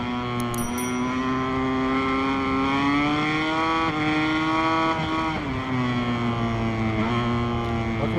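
A motorcycle in the MotoGP 23 racing game, heard from the helmet camera, drops a gear and accelerates. Its steady, loud engine drone rises and dips in pitch across the pass, with no talking.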